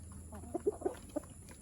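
Black Copper chickens in a backyard flock give a few short soft clucks close by, four or five quick notes in a brief burst against quiet background hum.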